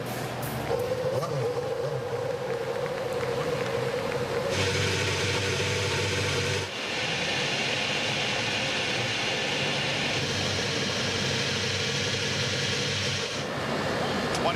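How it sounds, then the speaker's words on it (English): IndyCar race car engines fire up and idle at Kentucky Speedway in 2010, a dense loud drone with sudden jumps in level as more engines join in, and a voice talks over it. "Seven cars now begin to fire to life."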